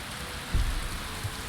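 Steady rain hiss from a video game plays alone, with a few soft low thumps rising briefly out of the wash.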